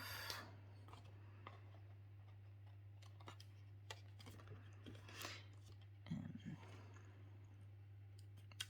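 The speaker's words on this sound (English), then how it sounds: "we're going to snip our excess ribbon" Scissors snip off leftover ribbon on the inside of a handmade paper Valentine's heart card, a few quiet dry cuts and light clicks over a steady low hum, with no talking.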